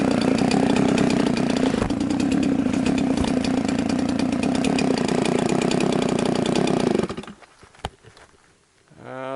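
Jonsered 630 Super chainsaw with a dull chain cutting sandy, dirty firewood, loud and close, a sustained rough engine roar under load for about seven seconds, then dropping to a sputtering idle before revving up again.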